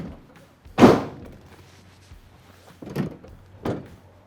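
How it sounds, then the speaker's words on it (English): Rear doors of a Ford Transit large panel van being shut: one heavy, close slam followed by two lighter thuds a couple of seconds apart, over a low steady hum. "I'll just get these doors all nice and shut up"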